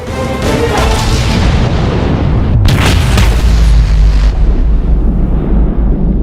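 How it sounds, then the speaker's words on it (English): The USS New Jersey battleship's main guns fire in a single huge, close boom that erupts mid-clip over a low rumbling background and then rolls away in a long, heavy decay. "Once this is pulled, the guns are fired."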